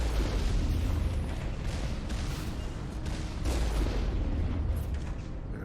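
Rockets explode in Mass Effect's Bring Down the Sky mission, a continuous rumbling wash of heavy blasts and booms, loud and close, with no talking.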